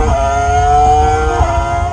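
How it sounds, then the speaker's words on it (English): Simulated F1 V10 engine sound played through the cabin speakers of a 2021 Tesla Model 3 Performance, a steady high-pitched engine whine with slight pitch swells, loud and continuous with no talking. "Behold, F1 V10 engine on board."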